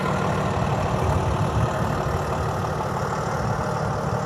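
A Cummins 8.9 liter engine idles in a 2024 Freightliner M2 106 Summit Hauler truck, a steady, broad diesel rumble heard up close under the open hood, with no talking.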